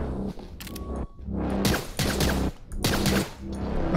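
Gunfire from a handgun in the first-person game Get Even, several sharp loud shots in quick bursts separated by short gaps, close and punchy with echoing tails.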